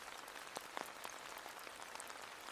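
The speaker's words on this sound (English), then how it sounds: "the cool rain dripping across his head and body" Cool rain falls in a meadow beside a pond, scattered drops ticking faintly and irregularly over a soft, hissing wash.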